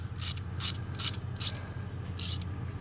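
A ratchet tightens a broken return fuel line fitting on a 6.7 Ford Powerstroke, giving five quick, close clicking strokes in an even rhythm over a low background hum.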